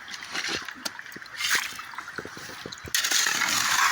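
Water runs steadily through a gold panning sluice, a continuous close splashing and trickling wash that swells louder and brighter near the end, with small splatters throughout.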